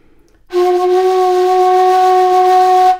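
A shakuhachi bamboo flute sounds a sustained double tone, two pitches at once, entering after a brief quiet start and holding steadily loud and close to the end without any talk.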